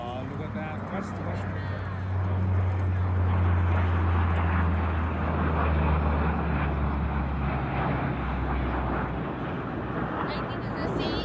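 A large C-40 aircraft passes overhead at the Comox airshow, a smooth, broad engine roar that swells and slowly fades over several seconds while spectators talk close by.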